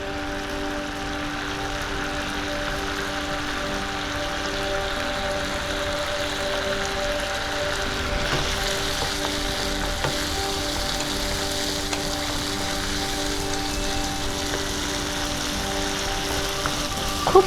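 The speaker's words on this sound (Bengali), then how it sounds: "এবার এর মধ্যে আমি রসুন কুচি নিয়ে নিচ্ছি।" Chopped garlic sizzles in melted butter, a continuous even crackle like light rain that swells a little halfway through, with a faint steady hum underneath and no talking.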